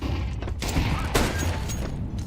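Flashbang and grenade going off in a video game, a dense burst of sharp cracks and thumps packed into a couple of seconds, loud and close over a constant low rumble.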